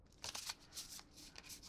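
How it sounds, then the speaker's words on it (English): A deck of trading cards is shuffled in a quick run of soft riffling bursts, close and quiet, with no one talking. "And give it a kind of a nice shuffle."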